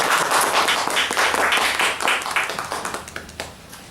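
An audience claps to welcome an arriving guest, a member of parliament, at a public gathering: dense, loud applause that holds steady, then thins and fades away over the last second.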